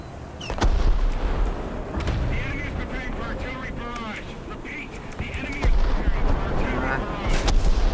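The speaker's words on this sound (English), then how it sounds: "I don't mix well with artillery." Distant booms of artillery fire in a war video game, thudding at irregular intervals over constant battle rumble, with someone talking throughout.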